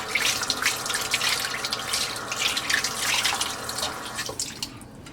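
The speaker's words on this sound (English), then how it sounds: "I'm just going to add a little bit of water." Water pouring and splashing from a tap into a pot of cassava, a continuous bright trickling stream up close that cuts off near the end.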